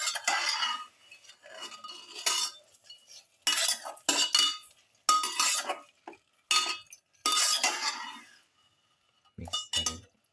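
A utensil stirs and clinks against a bowl in bursts, mixing a seasoning mixture for a pepper Japanese quail rice bowl, scraping and chinking up close with short pauses between strokes and no talking.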